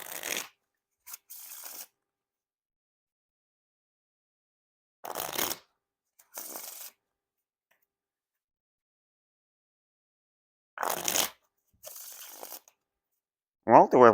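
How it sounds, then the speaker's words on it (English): Bicycle Archive Series playing cards are riffle and bridge shuffled in three separate bursts, each a quick fluttering rattle with a short cascade, separated by silent pauses, close and crisp. "Now time for the Riffle Shuffle or Bridge Shuffle."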